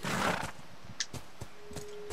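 Horse in The Last of Us Remastered, a close snorting huff at the start followed by a few soft, scattered hoof clops and small thuds in a quiet game scene.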